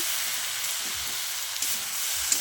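Mixed vegetables with green chilies and chili powder fry in a pan for a fish-head curry, producing a continuous bright hiss of sizzling with soft low bumps from stirring, and no one talking.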